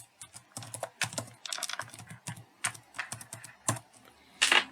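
Someone types an email address and password on a computer keyboard, producing quick irregular bursts of close, crisp key clicks with short pauses between groups.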